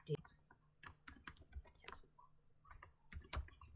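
Keys clatter in quick irregular bursts as a short message is typed on a computer keyboard, the clicks close and fairly soft against a quiet low hum.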